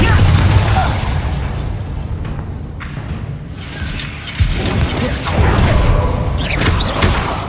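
Confringo fire spell blasts in Hogwarts Legacy combat, loud booming bursts layered over a dense, rumbling battle mix, with a sharp impact near the middle, alongside shouted voices.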